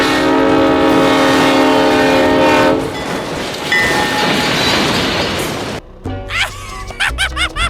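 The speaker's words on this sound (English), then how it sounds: "Oh my god, train!" A train blasts its multi-tone horn as it approaches in the BeamNG.Drive video game, loud and sustained, then gives way to rumbling rail noise before an excited voice shouts over it.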